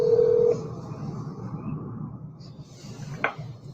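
Telephone dialing tones as a call begins: a short, loud steady tone at the start, then a quieter line hiss and a brief tonal blip near the end, with no voices.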